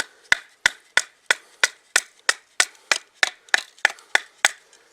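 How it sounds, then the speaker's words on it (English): Repeated sharp strikes as a BPS HK1S bushcraft knife made in Ukraine is batoned through wood, about fourteen crisp woody knocks in steady rhythm, close and loud with no talking. "Definitely batoning better than some other knives I've tried."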